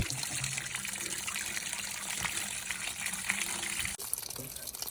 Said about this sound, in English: I'll open these downstairs valves, and whatever water's in there will come out